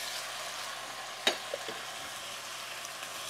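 Kidney beans, garbanzo beans and tomatoes hit hot spiced oil for a Jamaican stew, giving a soft steady sizzle with one sharp clatter as they drop in, then a few faint stirring knocks.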